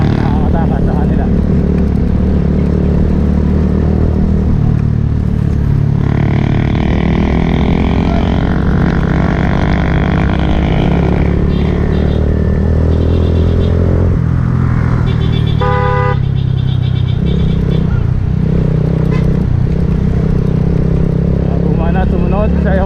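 A motorcycle engine drones close by as it follows cyclists up a long, steep climb in Zambales, rising and falling with a short horn beep midway and continuous wind noise, while a voice talks over it.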